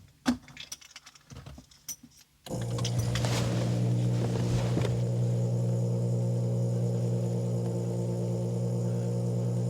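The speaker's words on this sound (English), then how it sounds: "let's pop the ignition on, and we'll hear the fuel pump kicking in" On a Ferrari 308 that won't start and cuts out at speed, the ignition is switched on after a few small clicks and key rattles, then the fuel pump kicks in with a steady, even hum that runs to the end.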